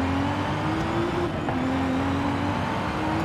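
A NASCAR stock car runs in a drag race against a 2020 Nissan GT-R R35 NISMO, its engine a steady loud drone with faint shifts in pitch, heard from a distance.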